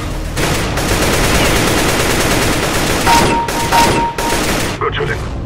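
Rapid bursts of automatic gunfire from Counter-Strike: Global Offensive rattle on almost without pause, loud and close, with a few sharper single shots and brief gaps near the end.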